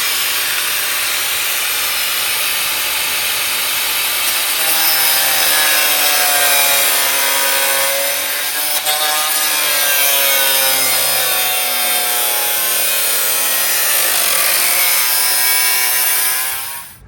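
Fenderwell exhaust headers on a 1963 Chevy Nova being cut with a power tool, a loud continuous grinding rasp whose pitch wavers and sweeps as the blade bites the metal, close and alone.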